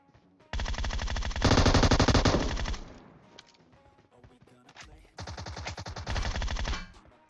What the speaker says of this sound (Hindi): वो बंदा अभी तक टोमी गन चला रहा है भाई